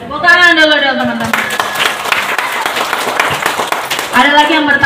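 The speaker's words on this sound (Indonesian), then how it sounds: "Tepuk tangan dulu dong teman-teman." Audience applause at an anniversary fan gathering, a dense wash of clapping between stretches of amplified voices that speak at the start and end.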